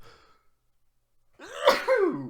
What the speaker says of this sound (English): I know you didn't want to hear me sneeze, did you?